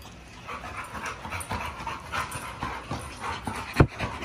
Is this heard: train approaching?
no